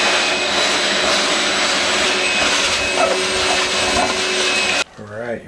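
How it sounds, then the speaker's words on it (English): A vacuum cleaner runs steadily and loudly while cleaning grout in a shower, with a constant whine that cuts off abruptly near the end, followed briefly by a voice. "once we vacuum it, I think we'll be able to see a little bit better."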